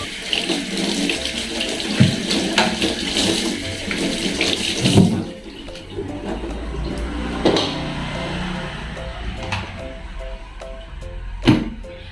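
Running tap water splashes loudly at a sink as baby bottle tongs are rinsed, the flow hissing steadily before easing to a softer trickle with a few clinks.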